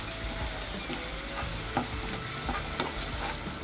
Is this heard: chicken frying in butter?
yes